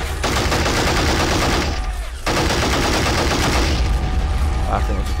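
Gunfire from the video game Army Men of War, a toy soldier strategy game, comes as dense, loud bursts of rapid shots that stop in a short gap and then resume just as heavily.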